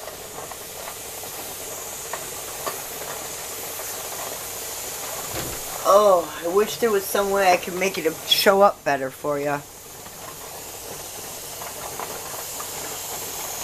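A pressure canner vents full steam in a steady continuous hiss throughout, close by, while a person talks over part of it.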